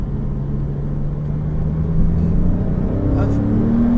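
A Porsche Cayman S accelerating on a race circuit, heard from inside as a loud, steady engine drone whose pitch climbs gradually near the end, with a voice talking over it.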